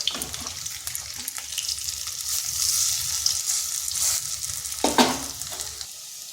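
Spinach and potato fritters fry in oil in a kadai over a low flame, a bright continuous sizzle that holds steady with occasional clatters of a utensil, and no voices.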